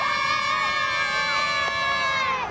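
Fans at a surfing contest cheer and shout together, a sustained crowd roar with many overlapping high, tonal voices, steady and fairly loud throughout.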